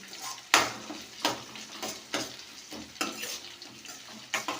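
Sliced onions and finely chopped green chillies frying in a pan for brinjal tomato curry, stirred in repeated scraping strokes over a soft sizzle, with occasional clinks of the spoon against the pan.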